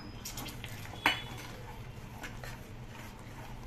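A single sharp clink as a drop of cooked sugar syrup lands on a plate, brief and fairly close, set against a quiet kitchen background with faint hiss and no speech.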